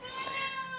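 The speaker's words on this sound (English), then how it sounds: "That's my cat, Stella." Stella, a pet cat, lets out a single drawn-out meow, clear and close, with a wavering tone lasting under a second.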